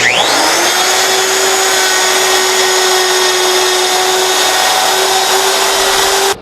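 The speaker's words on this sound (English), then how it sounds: "Then we just start the router and move it across." A router cuts a dado in wood, guided by a precision dado jig with a guide bushing; a loud, steady high-pitched motor whine spools up and holds unchanged throughout, alone with no talk, then stops abruptly at the end.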